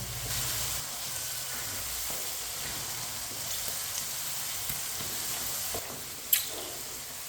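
Peas and carrots fry in a pan with a steady soft sizzle and hiss throughout, low and even, with a brief sharper clink near the end.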